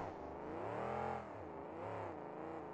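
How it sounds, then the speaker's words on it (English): A monster truck engine at a monster truck event in Salt Lake City, revving hard under throttle, its pitch rising and falling in a steady, loud roar with no talk over it. "Like to hear that truck scream a little bit."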